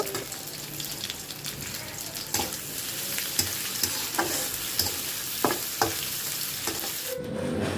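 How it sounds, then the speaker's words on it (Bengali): Dried loitta fish and onions fry in a pan with a steady, close sizzle, broken by several sharp scrapes and clacks as the mixture is stirred; no one speaks. "এখন আমি পেঁয়াজের সাথে লোটটা শুটকি ধুয়ে রেখেছিলাম সেটা দিয়ে দিচ্ছি এখানে পাঁচ মিনিট আমি ভেজে নেব"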